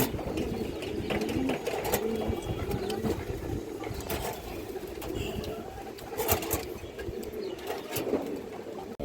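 Pigeons kept at a home loft coo softly and repeatedly at close range, low murmuring calls layered over a constant background hum, with no speech heard.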